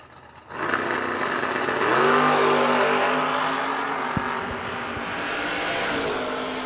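Drag race cars, among them a red IROC Camaro, roar loudly nearby. A sudden engine surge builds into a sustained, rising rev and then holds steady at full power.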